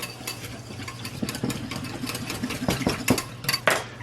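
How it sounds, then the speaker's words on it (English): Garlic mixture for a vegan gyro being whisked in a bowl: quick, uneven scraping and clicking strokes over a steady low hum, growing busier and louder toward the end. "Then I have to whisk this all up together."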